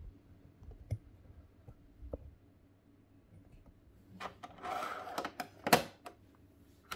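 A toy Slave 1 ship's plastic ramp slides and folds out, giving a cluster of sharp close clicks and a brief rattling scrape after scattered quieter taps.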